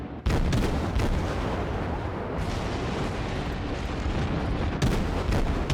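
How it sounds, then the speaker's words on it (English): Rapid naval gunfire from a destroyer in the World of Warships video game, a dense, continuous barrage of loud booming shots and rumbling impacts filling the whole stretch without letup. "He finally noticed that there was a destroyer right off his bow and opened fire on me."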